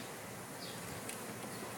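Bees buzz steadily around an open beehive during a hive inspection, a dense, continuous hum with no pauses, faint and filling the background.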